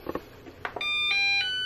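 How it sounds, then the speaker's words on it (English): A few soft knocks, then a sustained electronic beep tone from a vacuum cleaner, stepping in pitch, fairly close and alone. "My freaking vacuum keeps beeping."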